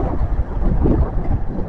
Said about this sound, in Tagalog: Hangin at maulan